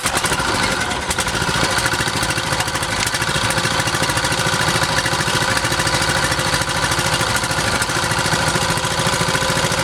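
A boat engine, started with a pull rope, idles in a loud, steady, rattling drone that runs unbroken from start to finish, close by and with no voices.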